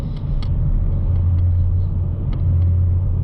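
Shelby Mustang GT350 cruising in sixth gear with the exhaust valve closed, a steady low engine drone and road rumble heard from inside the cabin, fairly subdued.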